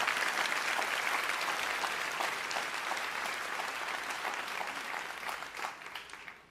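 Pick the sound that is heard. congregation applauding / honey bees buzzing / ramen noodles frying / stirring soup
congregation applauding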